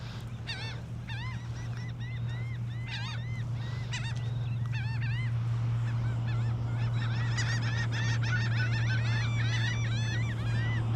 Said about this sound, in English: A lot of these behind me are laughing gulls.